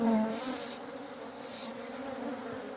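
Honeybees from an aggressive hive buzz close to the ear in a steady droning hum, with a few sharper, louder passes as individual bees dart in, no voices.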